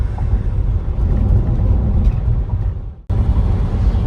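Inside a moving car heading to Lviv after a windshield replacement, a steady low road rumble and engine drone fill the cabin, dipping briefly near the end before resuming.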